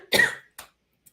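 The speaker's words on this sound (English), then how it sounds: "total coughing fit on the live show" One harsh, sudden cough followed by a shorter second cough and a faint final catch, close and loud against silence, in a quick single burst rather than a drawn-out fit.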